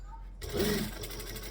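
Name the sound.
sewing machine stitching within seam allowance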